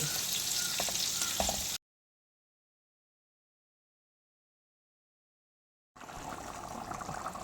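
Coconut milk boils down in a pan into virgin coconut oil, giving a dense, steady sizzle and bubbling hiss up close. The sound cuts to complete silence for about four seconds, then the sizzle returns.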